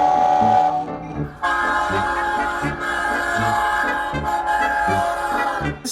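Nathan K5LL, K5LA and K5LLA air horns on an EMD DE30AC diesel locomotive of the Long Island Rail Road blare in a loud, sustained multi-chime chord, with a short opening blast and then a longer held sounding amid rumbling engine noise.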